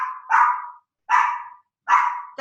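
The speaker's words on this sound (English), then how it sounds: "the dog is barking" A dog barks three times at an even pace, each bark loud, close and sharp, with silence between barks.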